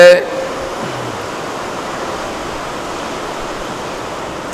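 Fine water droplets spray and patter down in a steady, close, continuous hiss that holds at an even level throughout, with no voices.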